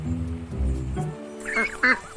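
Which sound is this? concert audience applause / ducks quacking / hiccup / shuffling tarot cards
ducks quacking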